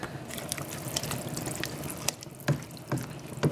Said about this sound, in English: we're going to add in 2 liters of chicken stock or vegetable stock